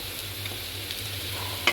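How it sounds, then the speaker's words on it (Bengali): Potatoes fry in hot oil in a wok with a continuous close sizzle, then a sharp utensil clink just before the sound cuts off. "এবার আলুগুলো ভেজে নিব"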